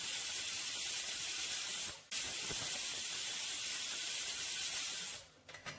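Steady, loud hissing of steam escaping from a pressure cooker whistle on medium flame while chicken curry cooks, continuous and close with brief dips in the middle and near the end.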